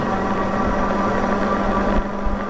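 A WILDEWAY SummitX all-wheel-drive e-bike motor hums steadily under throttle while climbing a hill, a constant mid-pitched whine with wind noise, close and unbroken, with no talking.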